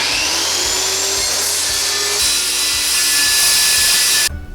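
A wood-cutting saw bites into an Onyx bathroom wall panel with a harsh, continuous whine that grows louder midway, then cuts off abruptly near the end.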